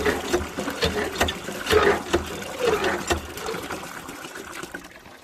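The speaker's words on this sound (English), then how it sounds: "So that was about 20, or maybe 10 or 15 pumps, and we've half filled that bucket" Water gushing from a village hand pump into a bucket, a steady splashing trickle with rhythmic pumping surges, close and moderately loud, fading slightly toward the end.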